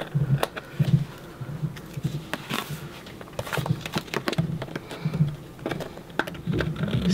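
Scissors trimming overhanging paper while a Disney travel scrapbook album is assembled, giving a run of close, crisp snips and rustles with light handling noises in between.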